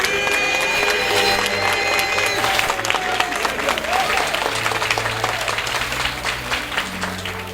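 Pastors' assembly acclaims a motion with sustained dense applause and cheering, a busy crowd roar with scattered voices that holds at even strength throughout.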